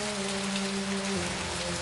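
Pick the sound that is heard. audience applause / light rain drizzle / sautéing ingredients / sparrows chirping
light rain drizzle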